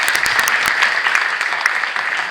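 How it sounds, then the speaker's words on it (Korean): Congregation applause at a church general assembly opening worship service, dense steady clapping from a large crowd, loud and sustained throughout with no talk over it. "하나님께 영광의 박수 올리겠습니다"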